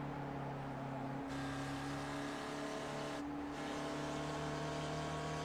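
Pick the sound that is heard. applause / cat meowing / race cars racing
race cars racing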